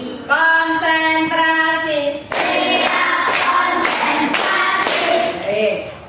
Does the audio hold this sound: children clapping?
yes